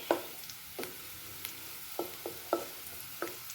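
Food browning in a frying pan during home cooking before string beans are added, a soft steady sizzle punctuated by several sharp stirring scrapes and clinks, quiet and close.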